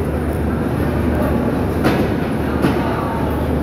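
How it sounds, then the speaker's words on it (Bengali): The Panchagarh Express leaves a Bangladeshi station bound for Panchagarh, a steady loud rumble of rolling railcars with a few sharp clanks, heard up close along the platform. "সেই পঞ্চগড়ের উদ্দেশ্যে ছেড়ে যাচ্ছে পঞ্চগড় এক্সপ্রেস"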